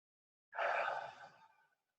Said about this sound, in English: then going through just a few breath cycles